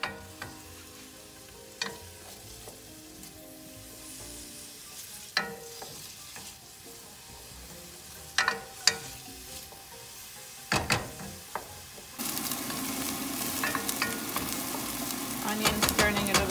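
Onions sautéing in a pan, browning for eggplant parmigiana, with steady sizzle and a few sharp utensil clicks and scrapes; the frying grows louder and brighter near the end.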